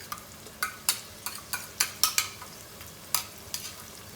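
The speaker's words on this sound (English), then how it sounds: "Now I'm going to throw in these chilies." Chilies with ginger garlic paste and grated garlic frying in a pan for vegetable fried rice: irregular sharp spits and crackles with stirring scrapes over a soft sizzle, close up, no voices.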